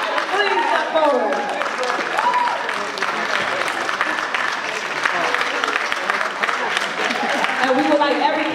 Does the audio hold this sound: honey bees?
no